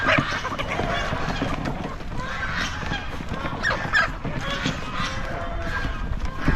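Chickens mill about and cluck as they gather for feed on a farm, alongside a goose-like honk and busy shuffling, all under steady talking.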